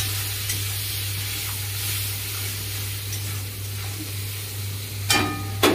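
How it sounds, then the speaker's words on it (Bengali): Prawns with turmeric fry in a pan under a constant low sizzle and hum, stirred with soft scraping, ending in a couple of sharp metallic clanks of the spoon against the pan. "এবার চিংড়ি মাছটা নাড়াবো।"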